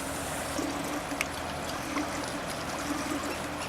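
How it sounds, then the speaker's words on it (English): Filtered water from a Katadyn Pocket Filter trickles steadily into a stainless steel jug outdoors, a soft continuous splashing stream with faint background noise and no talking. "got my Katadyn Pocket Filter, and we're going to filter some water"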